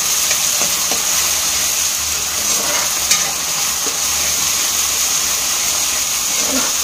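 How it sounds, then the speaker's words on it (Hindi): Masala spices frying in hot oil for mutton sukha, with a steady, even sizzle and hiss that goes on unbroken, plus faint stirring scrapes near the pan. "इसको जब तक भूनेंगे अच्छे से, मसाला तेल छोड़ दें तब तक।"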